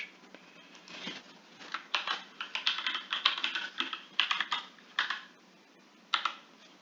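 A password is typed on a computer keyboard as a close run of quick, uneven key clicks, with a burst of faster taps in the middle and a final isolated press, no talking.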